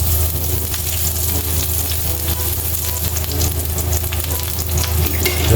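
Garlic sizzles and spatters steadily in a hot pan beside egg and chicken inasal at breakfast, a loud, dense frying hiss that stays even throughout with no pauses.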